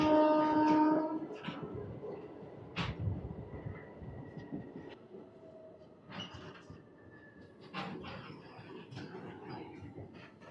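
Machilipatnam Express pulling out of Gudlavalleru station, a loud horn at the start giving way to low rumbling wagon noise with scattered clanks and rattles as the train gets moving.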